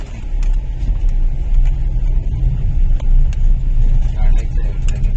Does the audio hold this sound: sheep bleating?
no